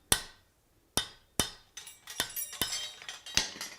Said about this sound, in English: I've, in fact, got the lighter hammer